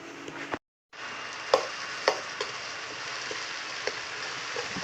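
Chili and crisp-fried fish stir-fried in a pan, a steady close sizzle with sharp scrapes and clinks of a spatula, after a brief silent gap.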